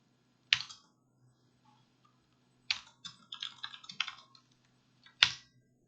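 Code is typed on a computer keyboard in short bursts, with single sharp key clicks, then a quick run of keystrokes, then another lone click, close and quiet over a faint hum.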